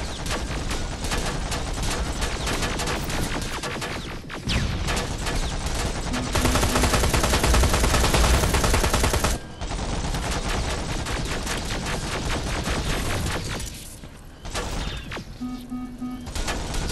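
Sustained, dense automatic gunfire from a turret in the video game Terminator: Resistance, loud and continuous through most of the stretch with brief drops, set in a creepy hospital.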